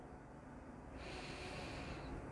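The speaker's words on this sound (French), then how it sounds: "de prendre une grande respiration." A deep breath drawn during a guided meditation, a soft, close, airy inhale rising to a fuller rush of air midway, heard alone without talk.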